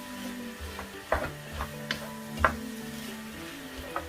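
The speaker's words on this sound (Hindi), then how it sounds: "इसलिए मैं इसको स्टीयर करूंगी," Flour being stirred in a pan for a chicken pot pie, with a spoon scraping and tapping in soft irregular strokes over a faint sizzle, close up and quiet, with no one talking.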